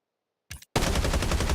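A QBZ 95 rifle with a Penetrator skin fires in a video game: a short sound, a brief pause, then a loud, continuous, rapid burst of automatic fire, close and with no talking.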